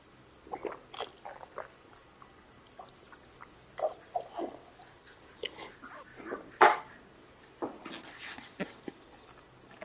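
A dog barks and huffs in short, scattered bursts at close range, with soft mouth noises and whimpers between them and faint voices underneath.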